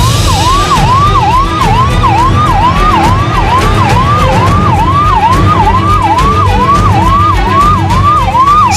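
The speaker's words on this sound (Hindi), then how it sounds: "सड़क पर सरपट सायरन बजाती एम्बुलेंस की तस्वीर दिलों को जोड़ती है" An ambulance siren wails loudly and steadily on the road, its rising and falling tone repeating in quick, even cycles over a low traffic rumble.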